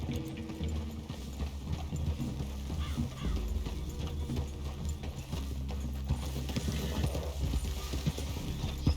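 Horses' hooves clip-clop steadily on the ground in Red Dead Redemption 2, with several animals moving together in a continuous, fairly loud stream of overlapping hoofbeats and some outdoor background noise.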